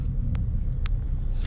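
Loaded sugar cane trucks idle near a sugar mill in San Miguel, giving a steady low engine rumble with a few brief hissing bursts, heard close and continuous with no talking.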